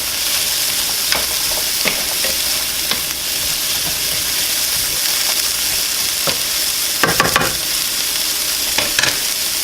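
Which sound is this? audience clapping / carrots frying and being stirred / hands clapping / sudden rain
carrots frying and being stirred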